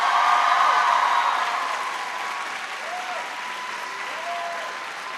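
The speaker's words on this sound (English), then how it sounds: "Please give her a big round of applause." Audience applause greets a school principal at a back-to-school address, a dense, loud burst of clapping that gradually thins and softens over several seconds.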